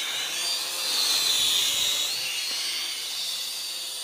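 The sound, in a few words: Eachine E708 Cyclone quadcopter drone motors flying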